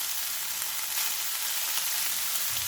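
Keema frying in oil with capsicum and onion, a dense, steady close-up sizzle that stays even throughout, with no talk.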